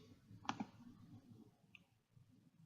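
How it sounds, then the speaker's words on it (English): A computer mouse clicks twice in quick succession, then gives a fainter click a moment later, heard up close against a quiet room with a low hum. "wait, I'm clicking the home link,"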